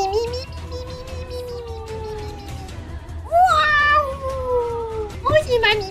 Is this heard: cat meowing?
yes